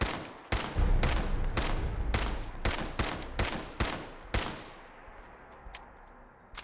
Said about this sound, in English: we can just pepper with bullets and wake him up